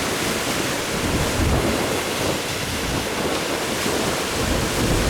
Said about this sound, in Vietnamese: sóng quá dữ rồi, quá lớn